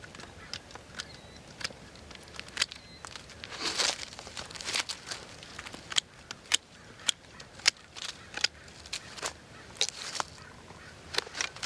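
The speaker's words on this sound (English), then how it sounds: "Just going to move around the tree, cut off some of these lower limbs" Pruning cuts on the lower limbs of a young Jefferson hazelnut tree, a run of sharp, crisp snips and crackles repeating at irregular intervals, fairly close and moderately loud with no voices.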